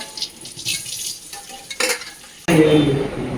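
Cauliflower and carrot pieces frying in a pan for a festival offering meal, a soft stirring scrape first, then a sudden loud sizzle bursting in near the end and holding steady.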